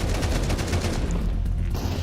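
Counter-Strike gunfire from a competitive ESL Pro League match: a dense, continuous burst of rapid shots packed together over the full two seconds, loud and steady, with no voices present.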